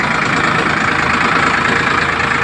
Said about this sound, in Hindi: देख सकते हो अंडर लोड चलता ट्रैक्टर